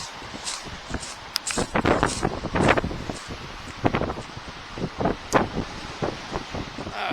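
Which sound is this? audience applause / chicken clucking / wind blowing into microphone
wind blowing into microphone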